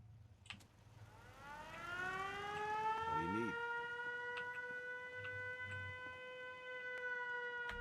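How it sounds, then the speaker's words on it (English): A Fallout 4 siren winds up from low and rises into a loud, sustained wailing tone that then holds steady, with a few faint thumps and rustles early on beneath it. "You can go ahead and throw the siren on."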